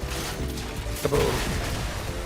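A life support capsule lands in a video game with a heavy boom and crash about halfway through, cutting sharply through a steady rumbling background.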